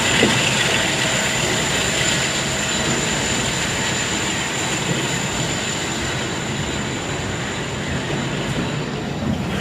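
Union Pacific locomotive 4294 rumbles past steadily for the full length, a broad continuous roar of rolling wheels with a faint high whine riding above it.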